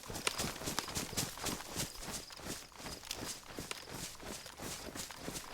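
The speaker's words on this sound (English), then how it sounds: "I just heard footsteps." Continuous shuffling footsteps in the video game DayZ, steady rapid steps under a constant noisy bed with no speech.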